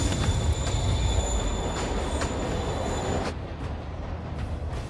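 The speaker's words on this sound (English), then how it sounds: "Train's moving." A train rolls along in the Marvel's Spider-Man video game, a steady loud rumble of railcars with thin squealing wheel tones. The noise eases slightly near the end. No one speaks.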